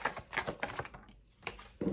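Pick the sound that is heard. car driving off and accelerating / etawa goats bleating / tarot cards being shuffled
tarot cards being shuffled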